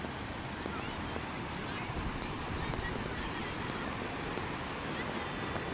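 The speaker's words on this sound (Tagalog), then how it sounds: "Ang lalaki ng alon guys." Big ocean waves at a beach on a Sunday morning, a steady broadband roar of surf with heavy wind rumble on the microphone, continuous and fairly loud throughout.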